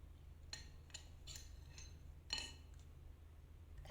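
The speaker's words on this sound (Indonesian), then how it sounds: "Ganti sendok soalnya mau ambil isinya guys." A metal spoon lightly clinks against a cup of shaved ice cream dessert from Gresik, with a few faint, sparse taps and clinks over a quiet background.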